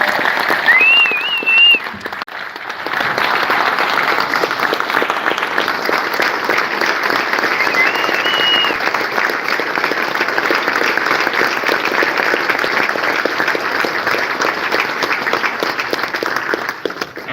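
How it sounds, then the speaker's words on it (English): Sustained applause from a crowd at a Marshall University coach introduction, dense and steady for many seconds, with a couple of whistles cutting through near the start. "One last round of applause for our new coach, Tony Gibson."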